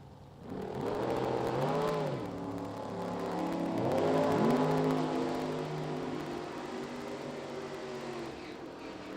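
A street roadster and a 67 Camaro replica run a drag race, their engines rising in pitch as they accelerate away, moderately distant and fading, with a second surge of revving midway through and no talking.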